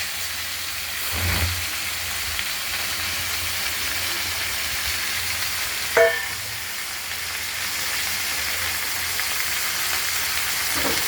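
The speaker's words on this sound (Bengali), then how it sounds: "এটা ফোড়নের মধ্যে আমরা নেড়ে চেড়ে চলে আসছি মশলার ভাজে" Mixed vegetables fried and stirred in a spiced tempering, a continuous low sizzle with an occasional soft clatter of stirring, fairly quiet and steady.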